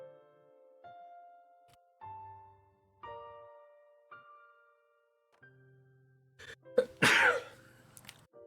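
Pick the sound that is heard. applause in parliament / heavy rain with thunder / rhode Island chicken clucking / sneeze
sneeze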